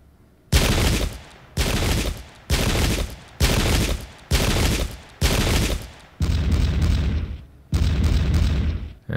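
Musket volleys in the Pike and Shot Campaigns video game: eight loud, evenly spaced booming volleys roughly a second apart, each a long rolling crackle of massed shots, the last ones longer and heavier.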